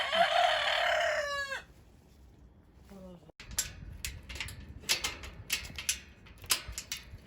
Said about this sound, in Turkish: Bakın karşı şeyde de böyle tavuklar besliyorlar.